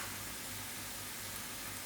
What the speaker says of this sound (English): I'm going to add in my mushroom